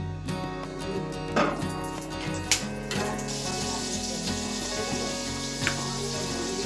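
Chopped onion, garlic and ginger paste sizzle in white oil and butter in a pan for a chicken vegetable soup, a steady close frying hiss with a few sharper crackles and clinks.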